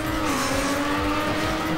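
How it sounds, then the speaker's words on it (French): Car engine in TrackMania Nations Forever, a steady high revving whine with tonal harmonics, continuous and close with no break, tires faintly hissing underneath. "Merde, j'ai pas de son de ma voiture. Mais si, je l'entends."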